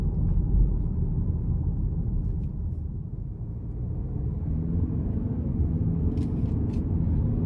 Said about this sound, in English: still has quite a bit of pep to it, just getting up to speed, just under light throttle.